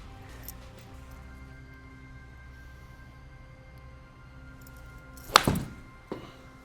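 A golf club chipping a ball out from among trees in an indoor golf simulator, heard as one sharp, fairly loud strike with a brief follow-up thud, set against quiet room hum.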